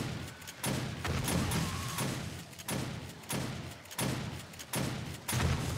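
Exploding crossbow bolts in 7 Days to Die go off during a horde attack as a series of about seven heavy thudding blasts, evenly spaced and fairly loud.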